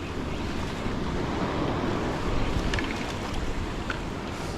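Surf breaking on a beach where someone is lure fishing in the foam: a steady, loud wash of waves with a constant low roar and gusts of wind buffeting the microphone, with no voices.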